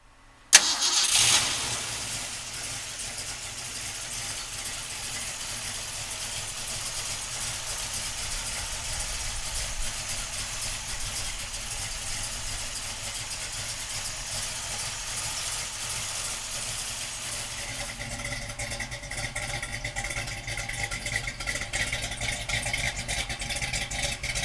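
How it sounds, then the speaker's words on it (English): A 1968 Ford Mustang's 302 V8 engine cranks and fires with a sharp start, then settles into a steady, rumbling idle that carries on evenly throughout, heard alone without talk. "So come on up and we're gonna fire this 302 up."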